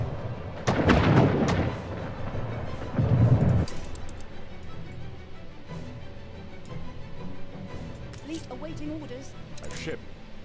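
Naval cannon fire against an enemy ship in Anno 1800: two heavy booming salvos, each lasting about a second, followed by quieter battle ambience with faint speech.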